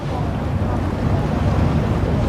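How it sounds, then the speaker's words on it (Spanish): Outdoors on the Sanga River in Cameroon, steady wind buffets the microphone over a continuous wash of moving water, with no distinct events throughout. "El río Sanga, en Camerún."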